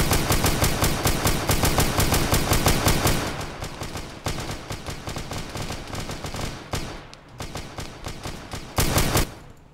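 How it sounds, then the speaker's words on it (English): Rapid automatic gunfire in the video game Arma 3, dense bursts of shots hammering loudly through the first three seconds, then continuing volleys with brief gaps and a final sharp burst near the end. "Hearing shots?"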